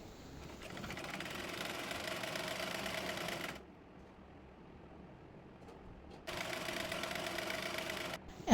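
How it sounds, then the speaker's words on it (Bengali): A sewing machine stitches the narrow folded hem at the bottom of a palazzo salwar leg, its steady rapid whir running in two loud bursts separated by a quiet pause, close by with no talking. "এবার নিচে মোহরিটি চিকন করে মুড়িয়ে সেলাই করে নেব"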